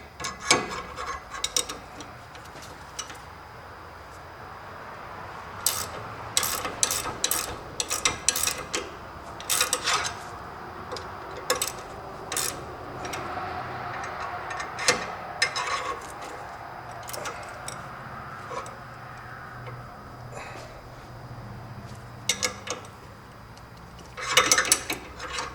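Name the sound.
ratchet tightening Jeep sway bar link bracket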